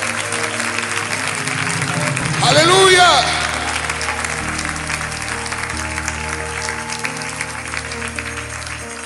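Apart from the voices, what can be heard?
church congregation applause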